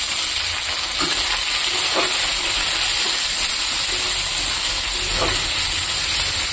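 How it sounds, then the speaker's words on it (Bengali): Onion and tomato frying in a pan, a steady close hiss and sizzle with occasional soft stirring clinks, unbroken and without talk. "টমেটোটা খুব নরম হওয়া পর্যন্ত খুব ভাজবো।"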